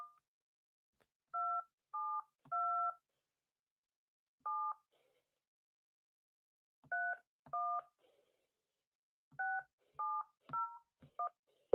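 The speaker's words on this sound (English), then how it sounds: "But let's dial the number here anyways." A telephone number is keyed in as a series of short, clean DTMF beeps, about a dozen tones in uneven clusters separated by silence, heard alone and fairly quiet.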